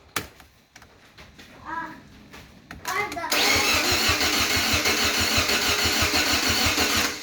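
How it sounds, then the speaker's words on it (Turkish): A Fiat Punto engine cranks and catches, then settles into a loud, steady idle with a regular low pulse. Voices, including a child's, are heard talking before the start. "Evet arkadaşlar marşımıza bastık. Motor rahat dönüyor."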